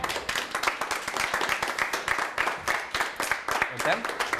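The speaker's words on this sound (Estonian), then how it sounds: "teeme talle aplausid" A small group claps in a quick, fairly even rhythm, the individual hand claps close and distinct, sustained throughout without talking.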